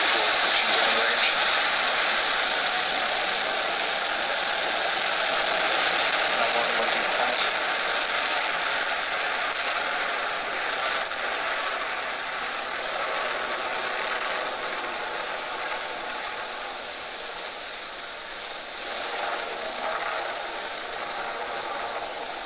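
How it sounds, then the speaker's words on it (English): Falcon 9 rocket engines at ignition and liftoff, heard as a broad, steady roar with crackle that holds for the whole stretch, loud and unbroken, with only slight swells and dips. "Ignition, liftoff."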